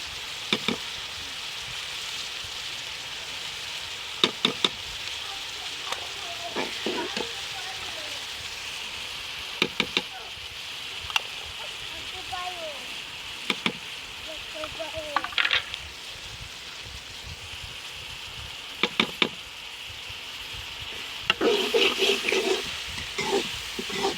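Chicken and cauliflower with salt, chili and other spices fry in a pan, a steady soft sizzle broken by sharp scraping clatters of stirring at irregular intervals.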